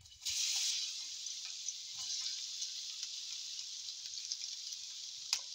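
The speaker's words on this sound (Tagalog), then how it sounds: "First, I have to saute this garlic." Garlic sautéing in a pan gives a steady, even sizzle that stays moderately close throughout, with a few faint clicks and stirring taps over the top.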